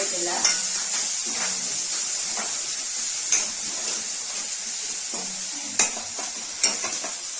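Onions frying in a pan until browned, a steady close sizzle with a few sharp clinks of a utensil against the pot scattered through it.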